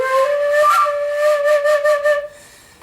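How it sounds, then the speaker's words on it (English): Dizi, a Chinese bamboo flute, plays a bright, clear sustained note with a quick trill, close and alone before fading out. "So this guy is called a dizi. It's a Chinese flute,"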